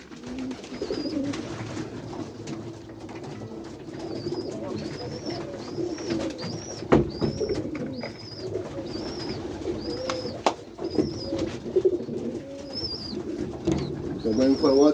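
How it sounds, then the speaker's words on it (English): Pigeons in a white pigeon loft coo softly and repeatedly, with low throaty calls overlapping and continuing throughout amid faint rustling and occasional knocks. "I want to show you my most lovely pigeon."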